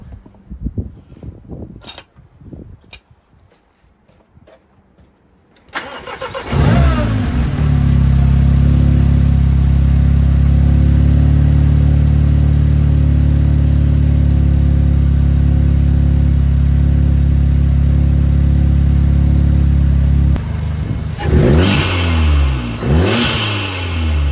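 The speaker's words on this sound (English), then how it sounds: "I'm going to give it a cold start now, so you guys can hear it" A Seat Leon Cupra MK3 fitted with a ram air intake and turbo elbow cold-starts loudly after a few quiet clicks, flaring briefly, then settling into a steady, high, droning idle for about fifteen seconds before dropping with a short blip.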